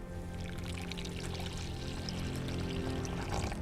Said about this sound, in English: add that into this bowl, as well as 1 1/4 cups of water heated to about 100 degrees